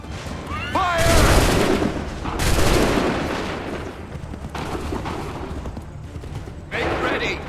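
Musket volleys ring out during the 1775 Battle of Lexington and Concord in Assassin's Creed, several loud, booming blasts spaced a second or two apart, each trailing into rumble, with voices calling out between them.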